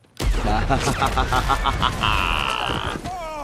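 An explosion goes off in a Western film scene, a sudden loud blast followed by crackling debris and ringing, with voices reacting over it.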